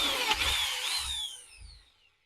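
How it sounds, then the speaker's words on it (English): A power drill bores a pilot hole into a model railway baseboard, a close whining motor rising and falling in pitch for under two seconds before spinning down to silence. "I'm going to drill that as a pilot hole"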